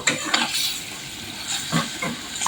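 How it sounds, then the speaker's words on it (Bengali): Shrimp being cooked down with spices and slit green chillies in a pan, a steady sizzle broken by bursts of stirring and scraping from a spoon against the metal, close and fairly loud. "এখন মশলার সাথে খুব ভালো করে চিংড়ি কষিয়ে নিব।"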